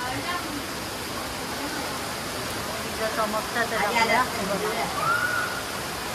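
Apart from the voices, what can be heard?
heavy rain falling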